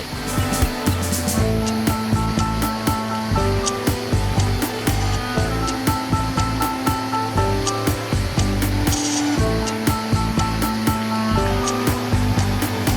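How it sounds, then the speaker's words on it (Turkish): A babbling stream of icy water in the green Yuvarlakçay nature area flows in a steady, continuous rush with splashing texture, close and moderately loud, with no voices. "Şırıl şırıl akan su sesleri eşliğinde gezinti çok hoş."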